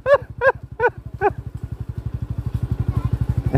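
A motorcycle rides onto a newly built hanging bridge, its small engine puttering in a fast, steady rhythm close by. A few loud knocking thuds sound at the start.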